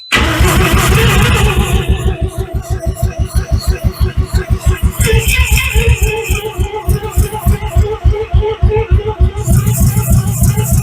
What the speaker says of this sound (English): Kick it over again. See if it starts just as it sits.